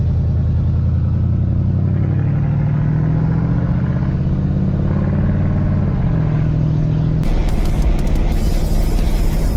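A fire-damaged diesel Oldsmobile 98 driving, its engine droning loud and close with a rising pitch as it accelerates, then a rattly clatter as it shifts into a higher gear; no speech.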